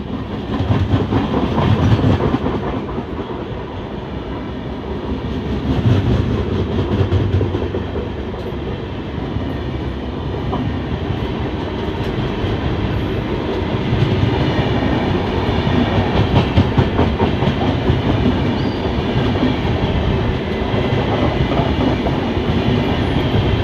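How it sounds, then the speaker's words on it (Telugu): A long express train hauled by a WAP-7 electric locomotive passes close by, its loud steady rumble and rhythmic clickety-clack of wheels filling the air throughout. "అదిగో వస్తుంది ఏదో ట్రైన్, వ్యాప్ 7 లోకోమోటివ్ అయితే పుల్ చేస్తుంది."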